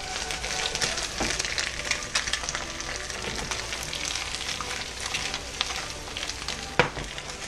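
Eggs and potato skin pieces frying together in a pan for a big breakfast, a steady close sizzle with scattered pops and spatters and a few louder crackles, no talking.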